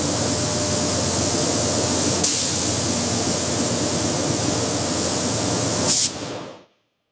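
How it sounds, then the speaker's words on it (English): Spray cabinet misting protective clear coat onto tumbled kangaroo leather in a factory, a steady, loud hiss of fine spray with two brief louder bursts before it cuts off abruptly. "the leather enters the spray cabinet, where a fine mist of protective clear coat is applied to the surface"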